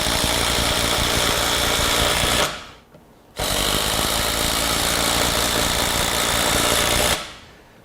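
DeWalt DCF850 Atomic 20V impact driver, running on a compact 1.5 amp hour battery, sinks 3 inch deck screws. It rattles loud and close in two long continuous runs with a short pause between them, and nobody talks.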